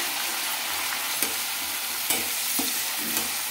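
Tomato pieces, green chilies and ginger fry and sizzle steadily in a pan for handi chicken, with a few sharp clicks of a spoon stirring against the pan, close and alone.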